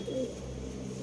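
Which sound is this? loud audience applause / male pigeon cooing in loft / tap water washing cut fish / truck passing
male pigeon cooing in loft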